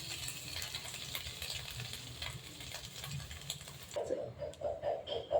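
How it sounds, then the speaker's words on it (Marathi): Grated coconut roasting in ghee for modak filling, a soft continuous frying crackle with light stirring scrapes that turn into a quick run of rhythmic scraping pulses near the end. "खोबरं आपलं भाजून घ्यायचं आहे तुपामध्ये"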